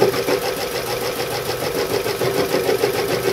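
A 12-pole, 36-slot, three-phase axial flux permanent-magnet wind turbine generator with an iron stator, spun at speed, gives a loud, continuous mechanical whir with a steady rhythmic pulsing throughout, and no talking.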